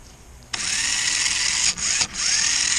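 The motor of a 1994 Lionel RS3 model locomotive, held upside down and run from an old 9-volt battery, whirs in a close, steady high-pitched spin, briefly dipping twice as the load changes.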